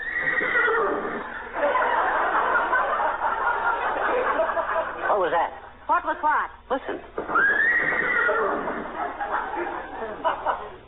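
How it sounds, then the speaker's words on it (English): A horse-like whinny, actually from a Great Dane, rises over steady talking in an old-time radio drama, followed by a second neigh; voices continue throughout at close range. "Sounded like a horse to me."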